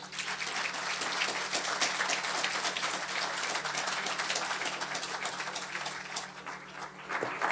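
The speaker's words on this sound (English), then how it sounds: "I'd therefore like to invite you to join me in giving an enthusiastic round of applause" A large audience applauds an Emerging Public Intellectual Award recipient, producing a dense, steady wash of many hands clapping that holds strongly throughout and eases slightly near the end.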